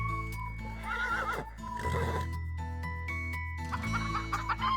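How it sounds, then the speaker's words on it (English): A horse whinnies with rising, wavering calls over a low steady drone, joined by rooster and clucking farmyard sounds, all fairly close and busy. "and 5 giddy galloping horses"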